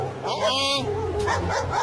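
A large dog barks and yips in quick bursts, close and loud, with people talking over it throughout.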